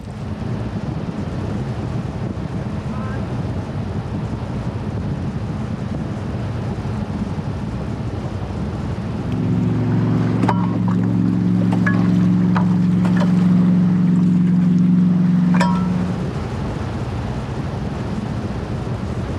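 Bass boat outboard motor running on open water, a steady low drone with wind buffeting the microphone, swelling louder and tonal for several seconds mid-clip before easing back.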